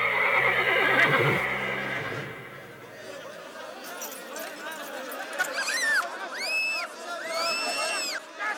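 A horse neighs in a long whinny over a crowd in the street, with a strong opening burst followed by several rising and falling whinnies and faint clip-clop of hooves.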